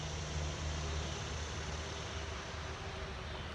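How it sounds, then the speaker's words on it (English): A noisy truck passes near an outdoor deck on a summer day, a steady broad rumble with strong low engine drone holding for several seconds without speech. "There's a noisy truck."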